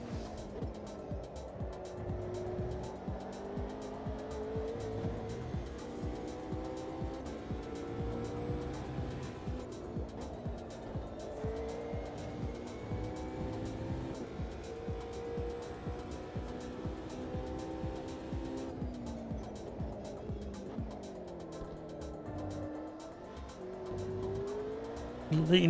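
A race car in the Automobilista 2 racing game howls through repeated rising and falling engine notes as it shifts and brakes, with tyres squealing faintly at times, heard at modest level.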